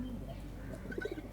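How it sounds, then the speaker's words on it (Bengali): Pigeons of several breeds cooing in a loft, soft low repeated coos near the end over a faint steady background, quiet and close. "এখানে বিভিন্ন জাতের কবুতর আছে"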